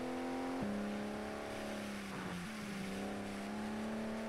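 ToCA Race Driver 2 race car engine droning steadily at moderate revs, the pitch stepping down twice and recovering, loud and up close for the whole stretch with no voices.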